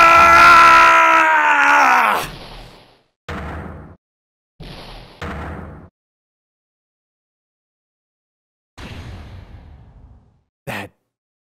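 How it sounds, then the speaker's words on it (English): A video game character in Phoenix Wright lets out a loud, drawn-out scream that trails off, followed by a few short gasps and groans separated by silences. "That scream. I've heard that scream before."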